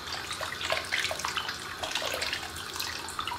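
Water pouring into a cooking pot to cover oxtail meat, a steady continuous splashing gush with no pauses or talk.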